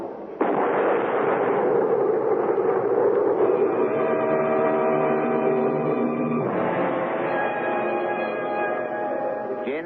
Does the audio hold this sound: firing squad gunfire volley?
yes